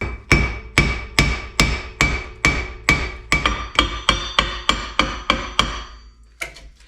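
A hammer strikes the brake rotor of a Jeep Liberty KJ about fifteen times in a steady rhythm. Each close metallic blow rings briefly, and a few lighter taps follow at the end.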